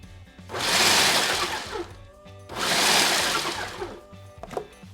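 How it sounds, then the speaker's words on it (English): A food processor whirs in two loud grinding bursts with a pause between, chopping peanuts down toward peanut butter, the nuts rattling against the bowl. "don't stop the food processor as soon as you see it start to get a little bit liquidy"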